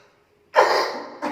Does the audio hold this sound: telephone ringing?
no